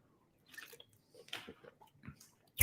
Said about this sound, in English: I'm going to take a sip of water just to get my palate wet.